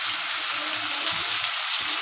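Tomatoes frying in a pan of oil for a mixed dal tadka give a steady, loud, close hiss of sizzling throughout, with faint low clatter underneath and no talk.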